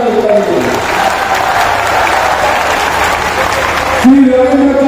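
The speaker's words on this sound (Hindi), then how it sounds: "जोर से ताली बजाइए" Crowd at a large outdoor political rally in Palghar clapping loudly, a thick continuous roar of hands with chanting or voices mixed in, swelling slightly toward the end.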